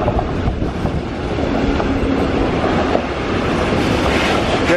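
A train rolls past on the Schwarzwaldbahn line in the Black Forest, a loud, close, continuous rumble with rhythmic wheel clatter and faint squeal, no voices heard.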